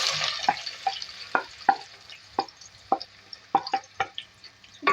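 Onions fry in a mix of oil and ghee, giving a soft, steady sizzle. Sharp little taps of a stirring spoon cut through it at irregular intervals, close and fairly quiet.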